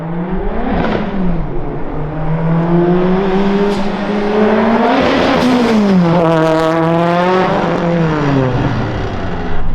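A car roars close past a group in a flyby, its engine note climbing as it approaches and dropping away as it passes. The revving is loud and sustained, with no talking over it.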